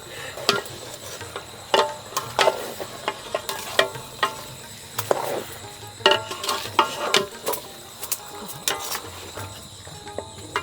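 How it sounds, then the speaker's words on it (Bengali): Meat for biryani cooks in a pot over a village kitchen fire, with soft sizzling under repeated clinks and scrapes of a spoon stirring, moderately close. "এইদিকে হচ্ছে আমি একটু মাংস রান্না করতেছি"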